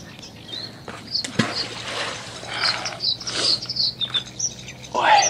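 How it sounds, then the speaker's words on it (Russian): Small birds chirp and tweet around a pond in spring during crucian carp fishing, with thin repeated calls over a soft outdoor background and faint splashes or handling noises. "поют птички, класс"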